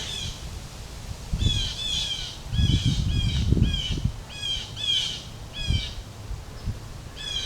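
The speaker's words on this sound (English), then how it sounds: "Bird wars going on up there." Several crows caw and squawk overhead in repeated harsh bursts, some overlapping as if squabbling, over a low outdoor background rumble.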